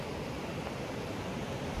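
A large, wide waterfall pouring over unusual rock gives a steady, dense rushing roar that holds unchanged throughout, with no voices.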